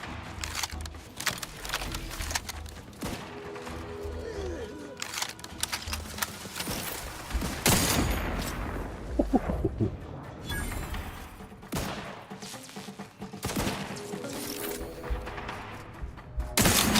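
Sniper and other gunfire crack repeatedly through a chaotic firefight in Outer Worlds 2, loud close shots and bursts layered over constant battle noise with no talk.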